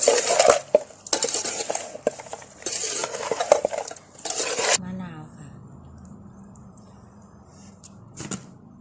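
Vegetables and mushrooms being stirred in a pot, a run of close clattering scrapes and utensil knocks for several seconds, then quieter, with someone talking.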